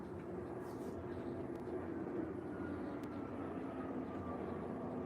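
Airplanes fly over a house, producing a steady, broad roaring rumble that fills the whole stretch without break, moderately loud and continuous, with no talking.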